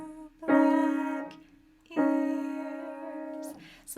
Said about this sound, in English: you're going to play both of the 2 black keys at the same time